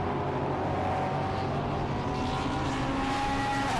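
Thunder class touring race cars racing at Silverstone, a dense continuous engine roar with rising whine as cars pass close by, steady and loud throughout.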